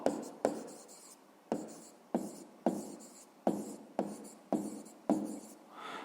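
A pen writes an answer to a sixth-grade maths exercise on paper in a series of about nine short scratching strokes, each with a sharp start and fading tail, close and clear with no talk.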